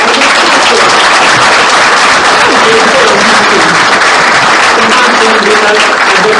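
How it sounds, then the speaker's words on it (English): Loud, sustained applause from a large crowd, dense steady clapping filling the whole stretch without a break. "please give them a round of applause"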